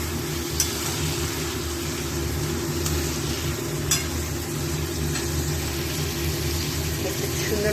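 Chicken pieces fry in a pan for chicken curry on medium-to-low gas, a low, steady sizzle with occasional spoon clinks and stirs over a faint background hum; no talking.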